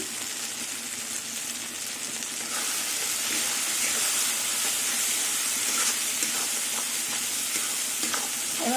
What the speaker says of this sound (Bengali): এবার সব মশলা দিয়ে কিছুক্ষণ আবার কষিয়ে নেবো